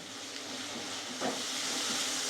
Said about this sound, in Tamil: எண்ணெய் காஞ்சிடுச்சு வெங்காயம் தக்காளி போட்டுக்கோ